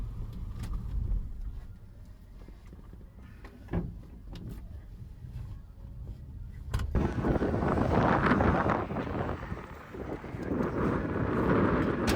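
Wind roars outdoors around a cheap old truck that is stopped on a road trip, with a low rumble at first, then a sudden broad gusty rush that stays loud and steady.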